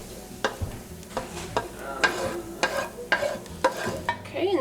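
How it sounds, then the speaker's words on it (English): Peppers and onions fry in a skillet with a steady low sizzle, punctuated by several sharp scrapes and clatters as they are stirred, close and moderately loud with no talking. "We're gonna put the peppers and onions in here for now."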